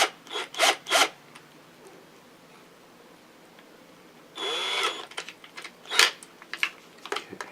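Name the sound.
drill bit drilling into stacked clipboards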